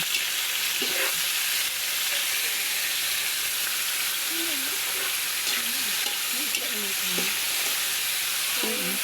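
Fresh mushrooms fry in a pan with a loud, steady sizzling hiss that runs throughout, while a voice talks faintly underneath.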